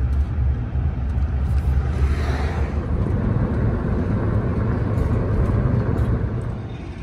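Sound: car being towed with a strap or chain

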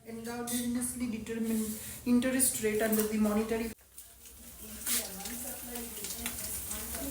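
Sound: oil heating and sizzling in a pan

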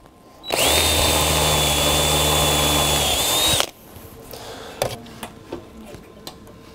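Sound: power drill drilling metal table leg

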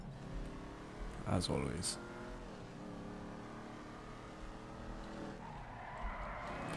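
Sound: car driving and skidding in the video game GTA V

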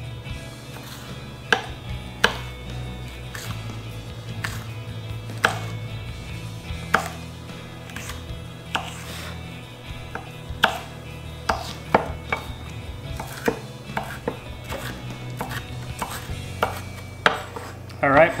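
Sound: knife cutting tomato into strips

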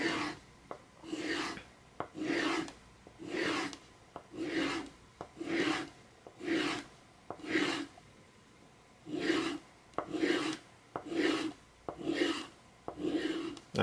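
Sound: filing and polishing teeth of a leather pricking iron

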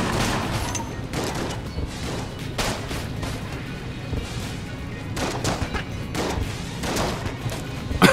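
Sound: blunderbuss gunfire in the video game Enter the Gungeon

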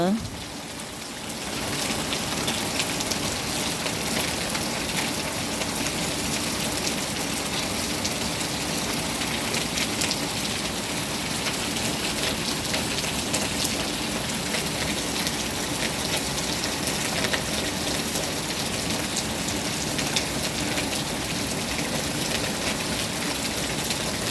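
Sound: steady rain falling

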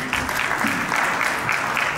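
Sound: applause for a speaker

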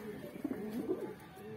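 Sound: Saharanpuri and other breed pigeons cooing

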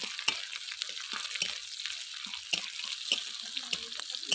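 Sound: onion and green chili frying in a pan

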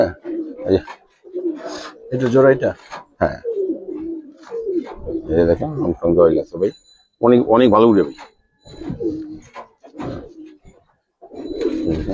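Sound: Giribaz pigeons cooing

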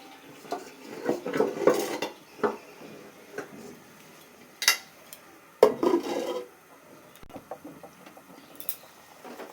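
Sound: covering the pot of lentils with a lid

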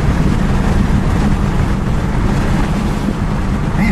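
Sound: wind blowing

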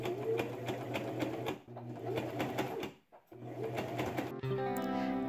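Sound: sewing machine stitching a dress waistband in the ditch

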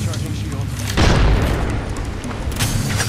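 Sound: grenade explosion in the video game Apex Legends

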